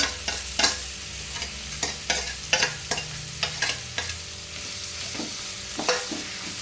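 Spatula scraping and stirring samosa filling of mashed potato and peas in a hot pan, a steady series of sharp clacks and scrapes over a faint continuous sizzle, with no talking.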